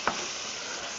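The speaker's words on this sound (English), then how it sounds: "Now I'm gonna stir it up a little bit." A spoon stirs a pot of canned, pre-mixed beef stew in a home kitchen, giving a steady, close, wet scraping and sloshing that runs on without a break and with no voices.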